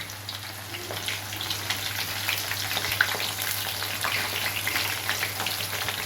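Stuffed brinjals for gutti vankaya curry fry in a pan, a soft, even crackling sizzle with scattered pops, fairly quiet and continuous over a low steady hum.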